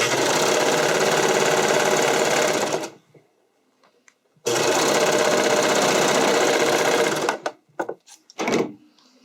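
A sewing machine sews elastic into a skating dress bodice in two long, loud, steady runs of roughly three seconds each, separated by a pause, followed by brief fabric-handling clicks.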